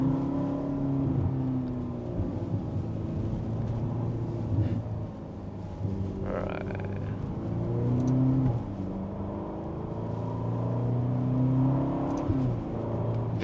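Ferrari GTC4Lusso T engine droning steadily under load on the road, with revs rising and then blipping sharply on downshifts, heard up close from inside the car with no talking.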